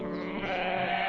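A voice imitates a goat's bleat in an animated story, producing one sustained, quavering bleat that is loud and close and is heard alone.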